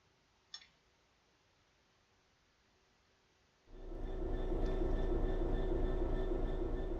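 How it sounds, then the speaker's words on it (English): A BR Class 66 diesel-electric locomotive in Train Sim World 4 starts up after a near-silent pause, settling into a loud, steady low engine rumble with a faint whine above, alone and without talk. "This is a BR Class 66 diesel-electric locomotive"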